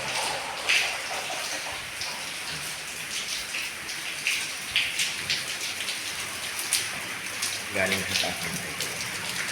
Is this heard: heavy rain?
yes